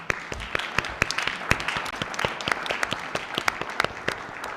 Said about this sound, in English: we'd like to give them a giant round of applause